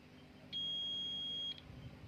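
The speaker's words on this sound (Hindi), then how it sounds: "ये दोनों शॉर्ट है, बीप आ रहा है" A digital multimeter on continuity mode gives one clean, steady electronic beep lasting about a second while probing two shorted pins of a DC-to-AC inverter circuit, faint and alone.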